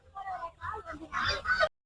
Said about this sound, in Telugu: నా వెనకాల అయితే అన్ని కోళ్ళు, నిప్పు కోళ్ళు, బాతులు అన్ని అయితే ఉన్నాయండి